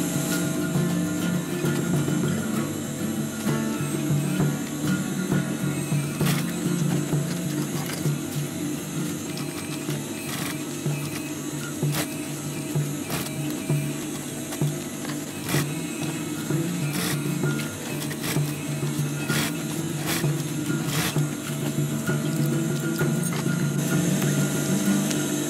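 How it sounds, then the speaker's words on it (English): A sewing machine stitches a cross-shaped pattern through folded webbing for a multi-tool pouch, a continuous mechanical whirring hum with repeated ticks and clicks, steady and close. "Leave enough space so you can sew a cross shape stitch."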